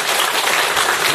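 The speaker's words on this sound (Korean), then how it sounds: "다시 한번 박수 한번 쳐주십시오." Audience applause at a corporate event, a dense, steady burst of many hands clapping together, loud and continuous throughout with no voices over it.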